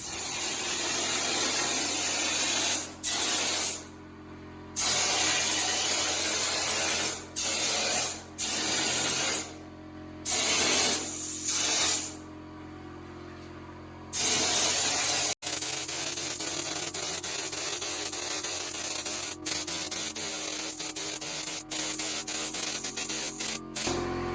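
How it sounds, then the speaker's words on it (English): A spray gun sprays thinned drywall texture mud onto a wall, hissing in repeated bursts with short pauses, followed by a steadier stretch of spraying with clicks and a low mechanical hum. "dilute the drywall mud quite a bit to get it to go through the gun and to spray on the wall"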